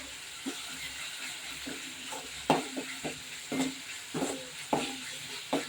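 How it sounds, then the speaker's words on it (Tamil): Ginger and garlic sauté in a pan as a spoon stirs, giving soft sizzling with a series of close, sharp scraping clacks at irregular intervals. "நல்லா வதங்க இஞ்சி பூண்டு கொஞ்சமாக சேர்த்துக்கோங்க"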